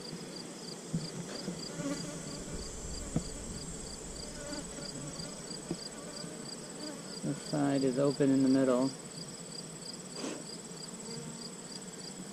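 Honeybees buzz steadily around an open hive during an inspection, a constant close hum with individual bees droning past, and a person speaks briefly over it.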